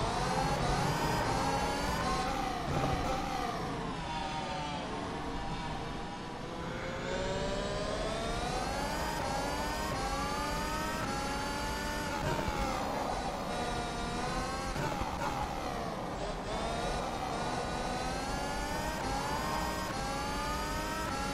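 A 2020 Haas Formula 1 car in a racing simulator gives a continuous high-pitched engine whine that rises and falls with gear changes and throttle across a steady lap, with no voices over it.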